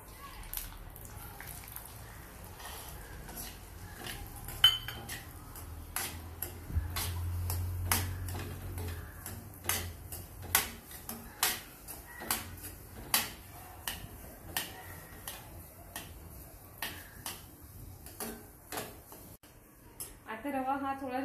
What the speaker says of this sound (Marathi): मग तूप गरम झाल्यावर आपण रवा भाजून घेऊया